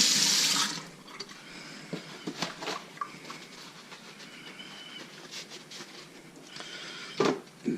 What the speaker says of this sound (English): Give it a quick wash too.